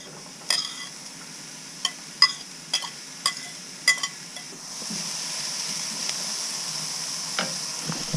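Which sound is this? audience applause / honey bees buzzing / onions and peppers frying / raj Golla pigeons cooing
onions and peppers frying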